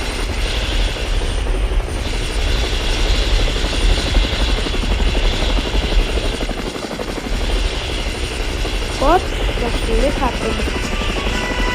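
Helicopter rotor drone from the video game Mad City, a steady broadband whir running throughout at even loudness, with a voice briefly speaking near the end.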